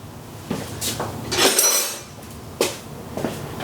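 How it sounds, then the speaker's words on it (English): A screwdriver jammed in a sprocket hole on a Ford Ranger truck engine clinks against metal, with a few bright, close taps and rattles spread across a light shop background. "we'll just use the screwdriver to hold it still"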